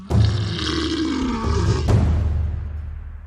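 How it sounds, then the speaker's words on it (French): A lion lets out a long, loud roar in pain, a deep growling bellow that rises again near the middle and then fades away, with no talking. "Le lion rugit de douleur"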